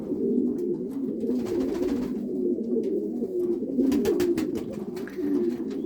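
A Gusat Horseman pigeon coos in low, rolling, repeated phrases, close and clear, with faint rustling in the background.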